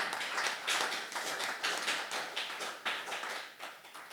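A church congregation claps in praise during a Korean sermon, a fairly faint, uneven patter of hands with distinct claps pulsing through a short stretch.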